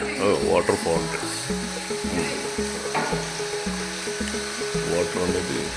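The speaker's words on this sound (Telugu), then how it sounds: "వాటర్ అనేది వాటర్ ఫౌంటైన్, వాటర్ నడుస్తుంది." A lighted water fountain runs in the grounds of an eco-friendly house in Kerala, giving a steady rushing hiss throughout beneath louder tonal music.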